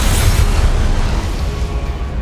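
A booming blast from the Confringo spell in a wizarding video game, a loud, dense explosion that starts hard and rumbles off gradually, with no voices over it.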